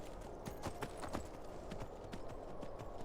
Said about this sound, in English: Oh, she summons a horse.